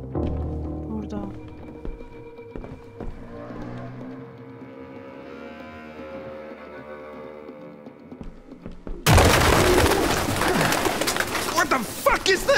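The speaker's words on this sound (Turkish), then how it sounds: "Kuşlar." Birds call in the Detroit: Become Human video game, with cooing, pigeon-like tones under a tonal game score, before a loud broadband burst takes over near the end.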